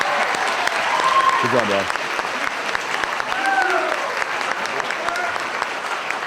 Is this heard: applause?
yes